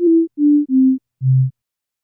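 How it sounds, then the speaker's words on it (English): A pure sine tone plays in four separate beeps, each stepping lower in pitch, with short silences between them. "we can hear our sine wave, we can see our sine wave."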